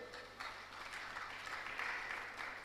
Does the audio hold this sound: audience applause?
yes